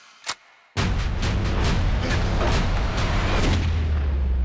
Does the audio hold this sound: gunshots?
yes